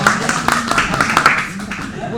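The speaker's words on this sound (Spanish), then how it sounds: "aplauso." Children at a church workshop clap in a quick, loose patter of individual hands close by, with voices mixed in among the claps.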